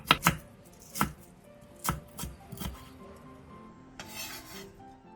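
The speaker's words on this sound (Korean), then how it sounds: "고명으로 돌아갈 대파 2개를 짧게 어슷 썰어 준비해주세요" Knife slicing green onions on a cutting board, a series of sharp, close chops at an uneven pace, followed by a softer scraping sound.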